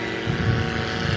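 A STOL airplane taking off from a runway in a crosswind, its propeller engine a loud, steady droning roar heard close and alone.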